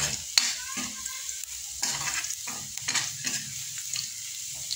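Ginger is being stirred and fried in a pan with a continuous soft sizzle, broken by scraping stirs and light clanks of the utensil against the pan, with no talking.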